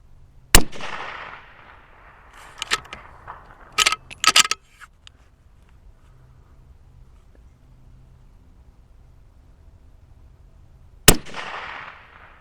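Rifle shots fired at a white target through a Riton 7 Conquer 3-18x scope: two loud, sharp reports near the start and end, with a few smaller clicks and knocks between them over quiet background.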